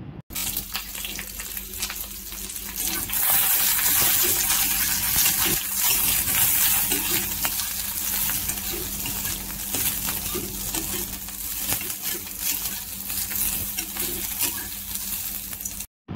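Loud, continuous sizzle of onion and garlic frying in a pan for tomato chutney, dense and hissy throughout, with occasional faint clinks and no talking.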